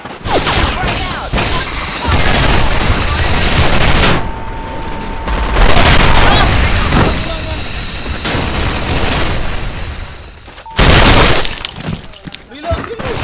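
Loud bursts of gunfire and a grenade blast crash through a competitive online shooter match, dense dense cracks and rattles that drop out briefly then slam back in, while players talk over the action.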